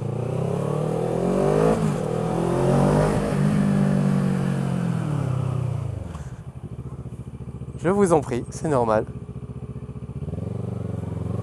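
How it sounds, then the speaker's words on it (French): A motorcycle engine revs loudly up close in a long rising and falling roar, then drops to a throbbing idle with two short sharp blips of the throttle; a person speaks briefly in French under the engine noise. "Là, vous entendez un utilisateur intensif de sa moto"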